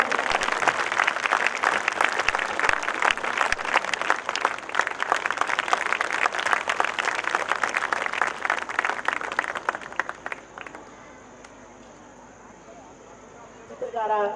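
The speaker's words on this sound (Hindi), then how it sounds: "एक बार तालियां।" Audience at a Hindi kavi sammelan poetry event breaks into sustained, dense applause for about ten seconds, then it stops abruptly and the hall goes quiet before a voice resumes.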